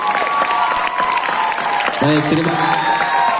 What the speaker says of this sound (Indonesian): berikan tepuk tangan kepada kedua pembicara kita pagi hari ini